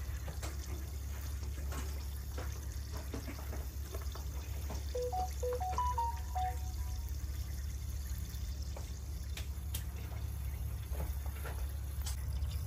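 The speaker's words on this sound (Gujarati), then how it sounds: "સ્લો થઈ ગયું છે પાણી, હાવ ઝીણી ધારે આવે છે" Water trickles slowly in a thin stream from a water tank under test, a faint continuous dribble over a steady low hum, with a few scattered clicks.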